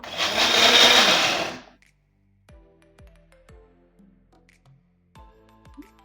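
A loud blender whirs for under two seconds, whipping tender coconut for ice cream, and cuts off, followed by quiet and several sharp ringing clinks.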